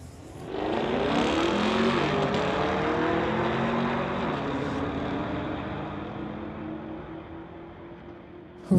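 Two drag cars, a 2018 Camaro and a supercharged LS-powered 2010 Cadillac, roar off the line and fade down the strip, engines rising in pitch through the gears, loud at first then slowly receding.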